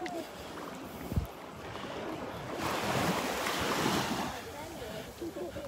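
Surf washing onto the beach at Delnor-Wiggins, with steady wind noise across the microphone and a swell that grows louder midway. A soft thump comes early, and faint voices may sit under the wash.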